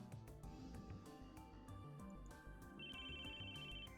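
A phone ringtone plays from a pocket in the visual novel game ChäoS;Child, a steady electronic melodic ring repeating throughout, clear and alone without talk.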